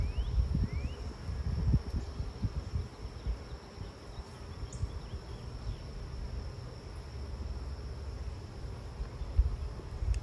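Honey bees buzzing around an opened hive during a mid-June inspection, a faint continuous hum with occasional brushing and handling noises close by.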